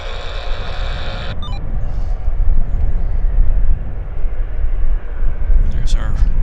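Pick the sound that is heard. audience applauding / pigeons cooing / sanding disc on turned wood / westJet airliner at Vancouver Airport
westJet airliner at Vancouver Airport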